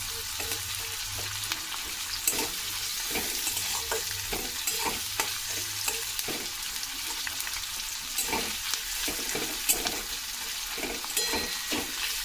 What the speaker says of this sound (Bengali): পেঁয়াজটা ভালো করে আমি নেড়ে নিচ্ছি।